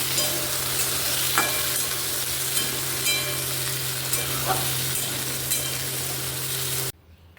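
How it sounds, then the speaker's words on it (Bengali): Onions frying in a pan give a steady, close sizzle, with a few stirring scrapes and clicks through it. The sound cuts off abruptly near the end, and nobody speaks. "পেঁয়াজটা একটু ভাজা ভাজা হয়ে গেছে"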